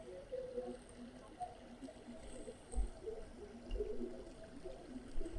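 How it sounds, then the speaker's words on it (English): A babbling brook flows steadily at low volume, a soft continuous trickle and gurgle carrying on throughout with a few slightly louder swells. "In the background, you might hear not only the babbling brook"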